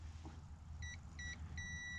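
A multimeter set to continuity while testing a 12V Cummins charging-system wire gives three short, high, pure beeps, the last held longer, faint over a low engine-bay rumble.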